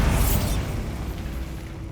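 A Bombarda blasting spell goes off in Hogwarts Legacy, a loud deep boom that opens with a bright crackling burst and then rumbles and decays steadily over about two seconds, with no voices.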